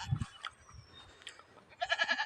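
Goats bleat from nearby in short, faint calls, with a louder bleating burst toward the end against quiet background noise.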